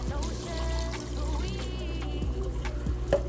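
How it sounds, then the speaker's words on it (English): A cup of water is poured into a pot of simmering turkey necks on the stove, a steady close pour with light splashing and trickling throughout, alone without talk. "Okay, so I'm gonna go in with 1 cup of water."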